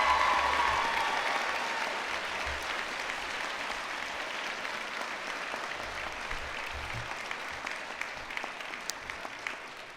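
An audience at a university graduation ceremony gives sustained applause for new doctors of political science and law. The clapping forms a steady, moderately distant roar that fades slightly over time, with no voices.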